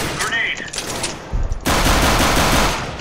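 Gunfire in the Counter-Strike (CSGO) video game, a dense burst of automatic shots that swells loud and sustained in the second half of the clip, with ambient game noise before it.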